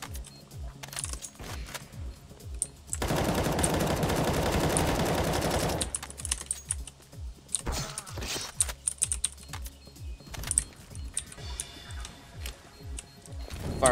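Gunfire in CS:GO during a retakes round: a sustained burst of rapid automatic fire lasting a few seconds, surrounded by sharp clicky key and mouse taps and scattered single shots.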